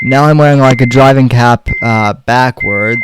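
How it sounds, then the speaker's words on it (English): A parked car's steady electronic warning beep repeats at a constant pitch beneath someone talking close to the microphone. "I'm sorry for the beeping."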